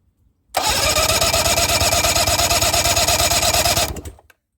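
A 1990 Johanson 20 HP outboard engine roars at full throttle, loud and steady with a fast even pulse for about three and a half seconds before cutting off abruptly.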